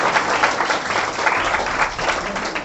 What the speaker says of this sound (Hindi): तो एक बार जोरदार ताली होना चाहिए,